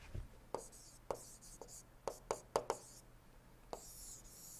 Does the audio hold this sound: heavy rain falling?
no